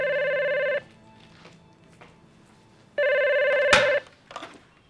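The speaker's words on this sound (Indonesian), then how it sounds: "Saya angkat telepon dulu ya." A telephone ringing indoors, two loud electronic ring bursts about two seconds apart with a quiet gap and a clatter between.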